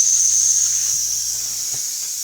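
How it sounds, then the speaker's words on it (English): An American Weeden 43 model steam engine runs with a steady, close high-pitched steam hiss over a faint low hum, plus a couple of soft thumps. "What a lovely engine."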